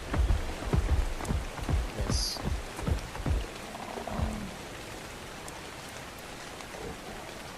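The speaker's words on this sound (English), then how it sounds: "it's not sunny and it's raining" Steady rain falls through the game world of Ark Survival Evolved, a dense hiss of drops on surfaces with a few louder thuds early on, continuous and moderately loud with no talk over it.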